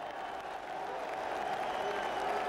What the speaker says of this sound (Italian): Il pubblico è in piedi, applaude